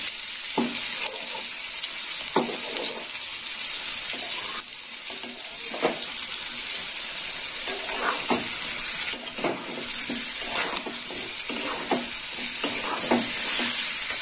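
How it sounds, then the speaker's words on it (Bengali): Ground turmeric and cumin powder frying in a pan for a chickpea dal with jackfruit, a steady high hiss of oil under intermittent spoon scrapes and clinks, no talking. "মশলাটা একটু ভাজাবো।"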